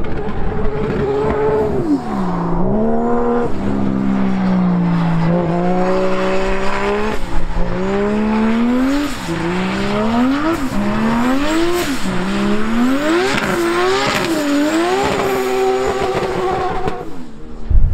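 A BMW E46 with an M50 engine drifts around the Kemora circuit, its engine wailing and swooping in pitch as it revs up and down, tires squealing continuously through the slides for about eighteen seconds, loud and close.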